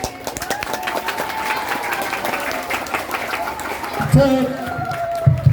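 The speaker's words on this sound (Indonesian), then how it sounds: "Tepuk tangan yang meriah untuk anak-anak semuanya" An audience claps after an elementary school contemporary drama performance by UPT SDN Wirogunan in Pasuruan, steady clapping running throughout beneath a voice and ringing tonal sounds, growing a little louder near the end.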